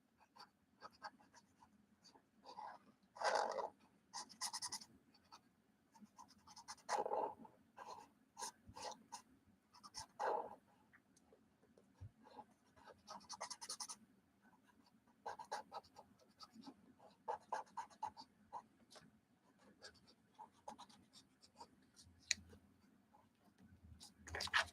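A fine-nib gel pen colors on paper in soft, close scratchy strokes, coming in short irregular bursts with pauses between, faint against a quiet room hum.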